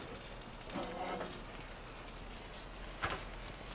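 A NY strip steak sizzles in a Lodge cast iron pan inside an Ooni Koda 16 oven, a steady low frying hiss with a brief louder crackle near the end.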